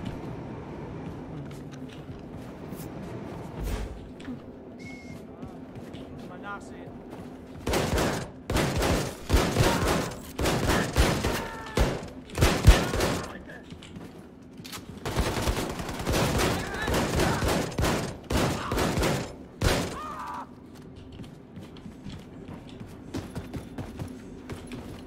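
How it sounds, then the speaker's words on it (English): Rapid weapon fire in the video game Wolfenstein, a railgun, crackling in dense, loud bursts across the middle of the stretch with brief pauses between volleys, over a steady game background hum. "All right, some kind of railgun."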